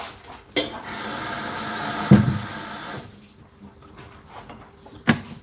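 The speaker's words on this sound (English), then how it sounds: "Let me rinse this quickly." Dishes being rinsed at a kitchen sink during cooking, with a steady stream of running water and a few clinks of dishware, including sharper knocks near the start and end.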